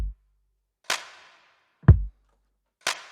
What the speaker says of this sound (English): Those drums on their own sound like this.